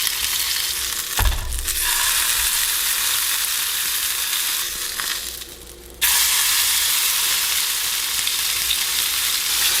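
A venison steak searing on its edge in a hot pan, a loud steady hiss with a thump and bursts of sizzle as the meat is shifted, dipping briefly before surging back.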